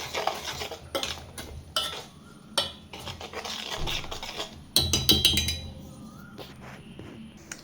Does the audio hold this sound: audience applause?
no